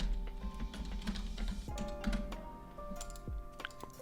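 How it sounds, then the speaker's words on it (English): Computer keyboard keys tapped in quick, irregular clusters while a name is typed into a spreadsheet cell, soft and close with light clicking. "Let me just type my name here."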